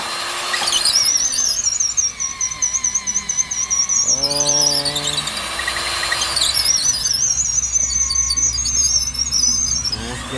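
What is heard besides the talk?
power drill drilling into a house pillar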